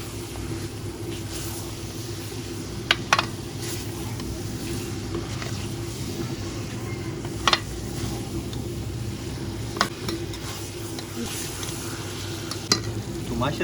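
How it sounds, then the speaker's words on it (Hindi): Fried okra being stirred into a pot of chicken gravy, a steady sizzle and bubbling with intermittent scraping clinks of a spoon against the pot, close and continuous. "अभी इसमें हम फ्राई की हुई भिंडियाँ डाल देंगे। बिस्मिल्लाह। मिक्स कर लेंगे।"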